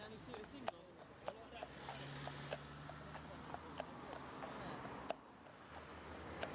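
Slow, regular hoof clops of a shire horse walking on a hard road, fairly faint against a steady background rumble of passing traffic.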